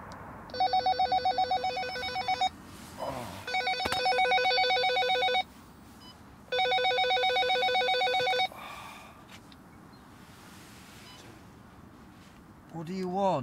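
A walkie-talkie beside a carp-fishing lake at night rings in three long electronic bursts of rapid, bell-like trilling, with quiet gaps and faint background sound between them.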